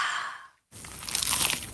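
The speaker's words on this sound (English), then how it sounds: "Is that the sound of an ooey gooey cheesy crunchy slice of P-I-Z-Z-A?" A bite into a crunchy, cheesy pizza slice: a crisp crackling crunch breaks in after a brief moment of silence and keeps crackling to the end.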